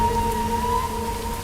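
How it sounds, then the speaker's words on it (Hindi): Rain falls in the desert as a steady, dense patter that continues for the whole short stretch, with a faint tonal hum underneath. "रेगिस्तान में बारिश, तो भी इस मौसम में"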